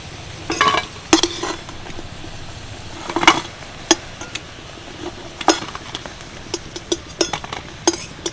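Crispy fried taro leaf fritters are lifted from a pan into a dish, giving scattered sharp clinks and crackly scrapes against a faint background hiss.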